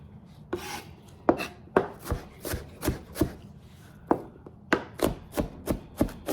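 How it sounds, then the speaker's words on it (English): A knife chopping an onion on a wooden cutting board, a dozen or so sharp, close thuds in a loose, uneven rhythm with brief pauses. "this onion, you can leave it as chunky as you want, or you can chop it up as small as you want to"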